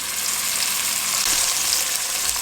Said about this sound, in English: I'm just going to add in my meat, and I'm going to sear this on both sides